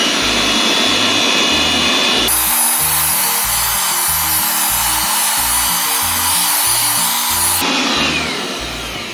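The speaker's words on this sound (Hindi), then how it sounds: "अब देखते हैं ये इसको वैक्यूम क्लीनर इसका काम करता है या नहीं, या कितना पावरफुल है।" Jakmister all-in-one vacuum cleaner and dust collector running as it sucks up spilled salty snacks, a loud continuous whirring motor roar that swells to full power in the middle and tapers near the end.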